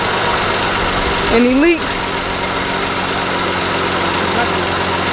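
A car engine idles steadily after a repair, with antifreeze just topped up, a continuous loud hum running under a brief spoken question from a nearby person.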